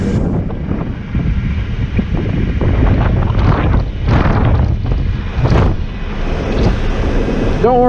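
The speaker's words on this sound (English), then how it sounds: "in true mountain pass fashion, it is windy as hell up here. Probably hear that little whistling." Strong wind buffeting and faintly whistling on a mountain pass, heard from an open two-wheeled ride with no seat belt or climate control, a steady rushing roar filling the whole stretch with gusty swells.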